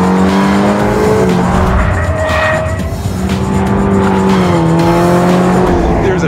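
A 2022 Toyota GR86 engine, a 2.4-liter, revs and climbs steadily in pitch as it accelerates hard, loud and close, with a rising whine throughout.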